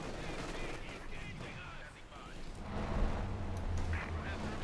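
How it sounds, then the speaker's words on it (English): Katyusha rocket barrage firing in Company of Heroes 2, a World War II strategy game, heard as a dense rumbling volley of launches and blasts that swells midway and holds loud, mixed with other battle noise. "Katyusha barrage off here"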